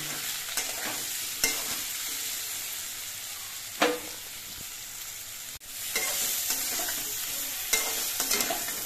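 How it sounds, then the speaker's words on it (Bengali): Steady sizzling of potatoes and pumpkin frying in a pan, interrupted by occasional scraping and stirring clatters from a utensil. "আলু মিষ্টি কুমড়ো এগুলো আমি দিয়ে কিছুক্ষণ ভেজে নিয়েছি"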